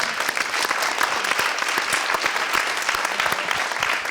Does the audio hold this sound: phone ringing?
no